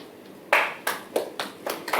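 Audience clapping at an investor day event: a sparse run of about six distinct, sharp claps spaced roughly a third of a second apart, fairly close and clear over a quiet room, no talk.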